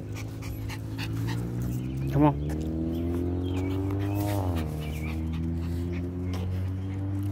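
A dog panting and whimpering at close range, with high whining cries and a brief yelp, while someone speaks over it outdoors.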